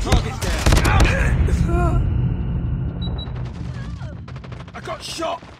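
Video game gunfire from Call of Duty Mobile: dense bursts of rapid shots and crackling effects over several seconds, loud and continuous, with game voice callouts and chatter mixed in.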